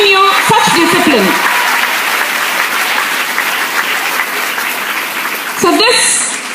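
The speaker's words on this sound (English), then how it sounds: "Please give a big round of applause to your parents for giving you such discipline." Audience at a school speech breaking into sustained applause, dense clapping from a sizeable crowd that holds steady for several seconds, with a speaking voice over the start and again near the end.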